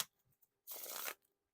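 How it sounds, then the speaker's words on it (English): A deck of Composition Deck playing cards is riffle shuffled in one quick, soft, close burst of fluttering cards, with faint handling taps before and after. "time for the riffle shuffle or bridge shuffle"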